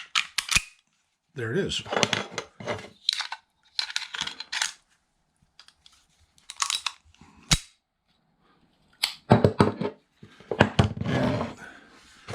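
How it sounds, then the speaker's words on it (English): Walther PPK pistol being reassembled by hand, sharp metallic clicks and snaps of parts sliding and locking together, close up, scattered between bursts of someone talking. "this is a Walther PPK, and it's just as easy to reassemble."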